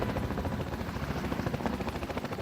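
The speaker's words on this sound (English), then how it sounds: "Overhead, Chopper 2 provides cover with its waist-mounted Gatling guns." Military helicopter with waist-mounted Gatling guns flying overhead during a drug-interdiction landing operation, its rotor producing a loud, steady rhythmic thumping with a dense roar and no voices.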